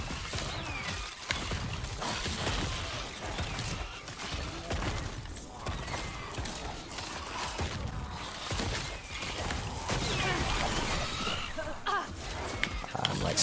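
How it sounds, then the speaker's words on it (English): Giant explosions in the action RPG Last Epoch boom and crackle continuously in a dense, chaotic wall of game combat effects, with someone talking over them for much of the time. "I love these giant explosions"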